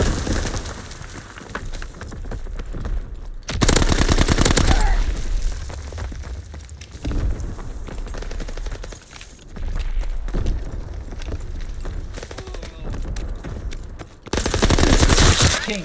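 Call of Duty gunfire, with sustained machine-gun bursts and heavy loud volleys that come and go across the stretch, mixed with game ambience and occasional distant shots.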